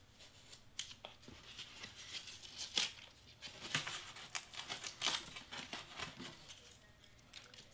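Scissors snip and crinkle through a printed picture being trimmed for a foam board project, a close, steady run of small cuts and paper rustles with no talking.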